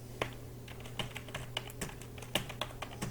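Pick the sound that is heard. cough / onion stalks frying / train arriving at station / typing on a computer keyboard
typing on a computer keyboard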